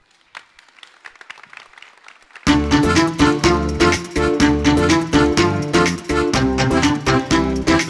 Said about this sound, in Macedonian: Ве молам аплауз.